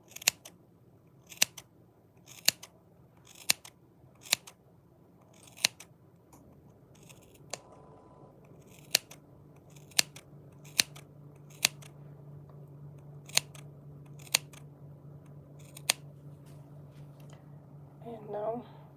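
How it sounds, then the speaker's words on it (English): Crisp, close scissor snips repeat at a steady pace, roughly a dozen and a half sharp clicks over a low background hum, with a voice briefly at the end. "I use sewing scissors and"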